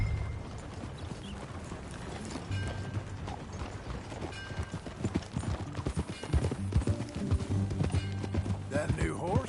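Rhythmic clip-clop of horse hooves at a trot in Red Dead Redemption 2, growing louder and busier, with voices talking over the steady hoofbeats.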